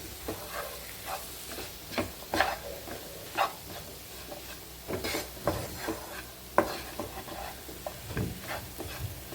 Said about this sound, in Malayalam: നമുക്ക് നന്നായിട്ടൊന്ന് വഴറ്റിയെടുക്കാം.